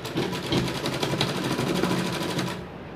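A sewing machine stitches a pillow cover in a fast, steady, rhythmic rattle close to the microphone, running for a few seconds before it stops abruptly.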